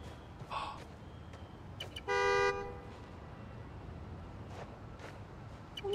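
A single loud car horn honk from a car in Marvel's Spider-Man: Miles Morales, short and near, over a constant low city hum with a few faint clicks around it.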